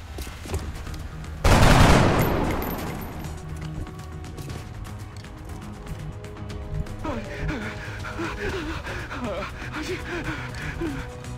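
A loud burst of gunfire erupts in the XCOM strategy game, then rings away into a tense music bed with chirping effects.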